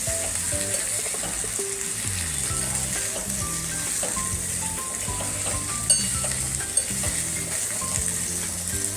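Onion, carrot, capsicum and mushrooms stir-fry in a pan with a steady, close sizzle, joined by occasional light scrapes and clinks of a utensil against the pan.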